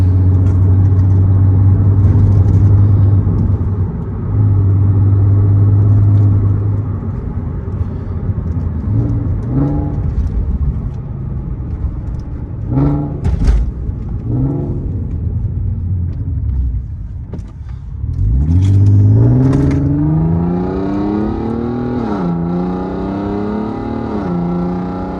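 An Audi TT VR6 engine revs and accelerates repeatedly on twisty roads, rising and falling in pitch as gears shift, loud and close, with a deep throaty rumble.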